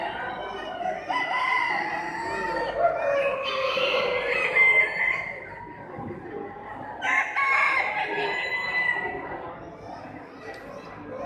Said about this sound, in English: Here's a Cornish rooster for you